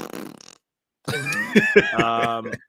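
A fart-like blurting noise, short and close, following a brief burst of sound and a gap of silence, with a buzzy, wavering tone and a couple of sharp pops.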